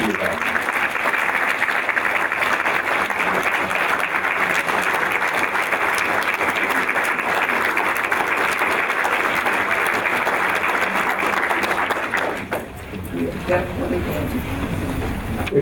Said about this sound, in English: I want you to join me in giving him a round of applause and an ovation